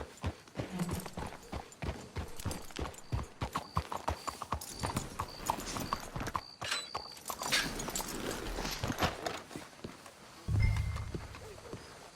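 Steady clip-clop of horse hooves on hard ground in the video game Red Dead Redemption 2, brisk and continuous, close by, with faint background talk and a snort near the end.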